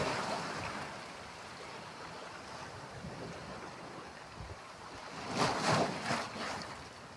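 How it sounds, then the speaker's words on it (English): Ocean waves break and wash in a steady broadband roar, with a louder surge of surf rolling in near the end; wind buffets the microphone throughout and no one speaks. "Big old waves."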